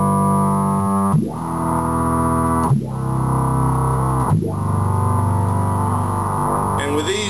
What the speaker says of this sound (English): Here's the third function on the pedal, which is actually one of the synth tones.